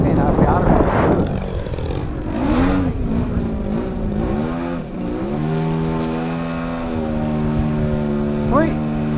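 Propeller of a Gian Extra 330 model plane hovering outdoors, a loud buzzing drone that swells and dips in pitch as the throttle changes, with talking over it.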